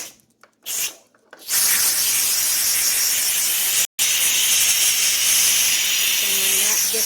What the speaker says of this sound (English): when that gets done steaming and making all kind of noise